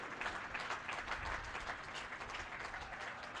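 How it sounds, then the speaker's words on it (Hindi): Dense, sustained applause from a large crowd, steady and fairly loud with no break. "यहां से वहां तक सारे कार्यकर्ता मिलकर के जोरदार तालियों से आपका अभिनंदन करें।"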